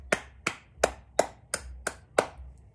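Seven sharp, evenly spaced hand claps ring out one at a time at a steady slow rhythm, fairly close and clear with no talking.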